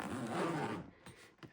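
A sturdy zip slides open around an army emergency medical kit pouch, a close rasping pull lasting under a second, followed by faint handling clicks.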